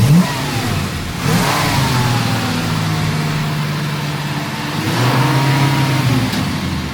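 A box Chevy revs hard and pulls away. A loud, continuous engine roar rises and falls with throttle bursts near the start and again later, with no voices.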